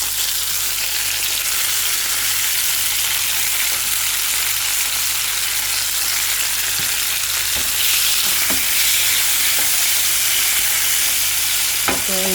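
Tomatoes frying in a pan of sautéed garlic for ginisang ampalaya with sardines, a steady close sizzle throughout with a few clinks and stirring scrapes near the end, and no talking.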